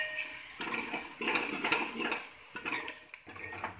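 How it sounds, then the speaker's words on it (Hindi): Onions frying in a pan for mutton rogan josh, stirred with a metal utensil: repeated clinks and scrapes against the pan over a soft, steady sizzle, close and moderately loud, with no talking. "इन प्याज को हम तब तक भूनेंगे"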